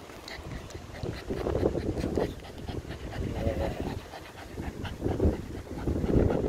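A Patterdale terrier pants steadily and close by, outdoors on a walk with light wind noise over the microphone.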